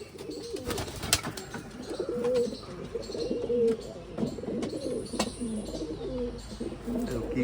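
Pigeons coo repeatedly inside a crowded pigeon loft, overlapping throaty calls and scattered chirps close by, with a few sharp knocks and light background voices.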